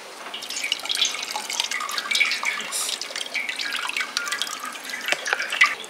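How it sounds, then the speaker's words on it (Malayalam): Homemade grape wine, fermented with spices and wheat for 21 days, drains through a strainer as a steady, close liquid trickle and patter of drips that continues for the whole stretch, with no one talking. "നമ്മൾ അരിപ്പയിലേക്ക് ഒഴിച്ചപ്പോൾ കണ്ടോ ഇങ്ങനെ അതിൻ്റെ നീരെല്ലാം താഴത്തേക്ക് പോയിട്ടുണ്ട്"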